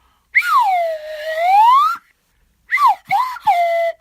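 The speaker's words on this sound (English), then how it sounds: "All right. Slide whistle." A slide whistle swoops down and back up in one long glide, then three quick descending slides follow, loud and close.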